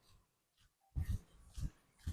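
A nearby dog lets out a few short, gruff barks in quick succession after a brief quiet pause, with soft breathy sounds between them and no talking.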